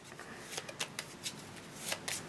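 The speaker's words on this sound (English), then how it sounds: "Shuffle." A deck of cards is riffled and shuffled during a Marvel Champions card game, giving a run of quick soft fluttering bursts and snaps, close and fairly quiet, with no talk over them.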